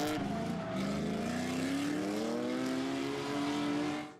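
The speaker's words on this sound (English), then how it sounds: "Drifters, start your engines." A drift car at a street league drifting event revs hard, its engine climbing steadily in pitch over about four seconds, loud and close, then cutting off at the end.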